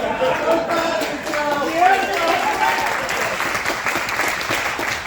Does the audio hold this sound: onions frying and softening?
no